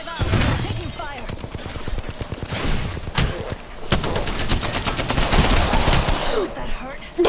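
Video game gunfire: rapid bursts of automatic fire rattle in quick rhythmic volleys, loud and close, with scattered single shots between the bursts and a voice talking over part of it.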